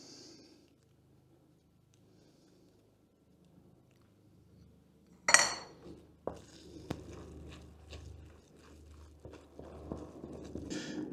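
Cream cheese being mixed by hand, with soft squishing and pattering from about five seconds in, a sharp knock at the start of the activity and intermittent wet squelches continuing steadily and close up.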